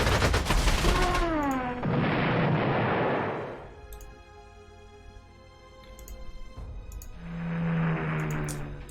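Gunfire and explosions from the Panzer Corps 2 strategy game, with loud bursts of firing and blasts separated by quieter stretches and a descending whine, alone without talking.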